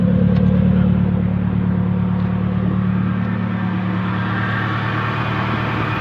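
A Nissan KA24DE engine in a 240SX S13 idles steadily and close by, a continuous low droning hum with faint mechanical clatter that stays even throughout, with no talk over it.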